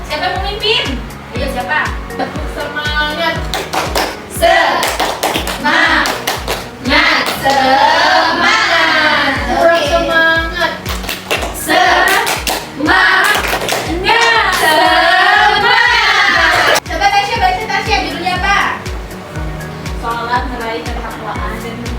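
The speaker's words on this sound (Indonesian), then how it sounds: "Tepuk semangat." Junior high students in a religion class do a rhythmic spirit clap, loud patterned claps in a quick beat mixed with chanting voices throughout, close and energetic.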